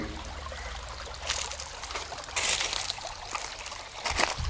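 River water flows steadily downstream in a shaded natural setting, a continuous broadband rush with louder surges of splashing in places, close and fairly quiet, with no one speaking.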